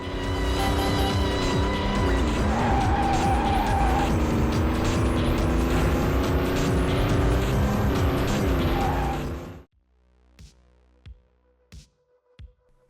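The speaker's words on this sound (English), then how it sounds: "it can still be satisfying to skid around corners and cut down your time" Race car in the game Vanishing Point skidding around corners: a loud, continuous engine roar with squealing tyres that cuts off abruptly, leaving a few faint knocks.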